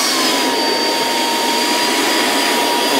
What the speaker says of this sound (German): es startet wieder der Motor, also okay, es ist laut und dann beginnt sich der Airbag von einer Seite zu öffnen